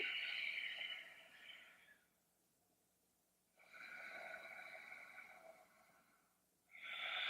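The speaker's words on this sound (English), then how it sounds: "Breathing." Slow, deep yoga breaths during a grounding practice, each long airy exhale rising and fading with a clear pause between, close and fairly quiet, with no talking.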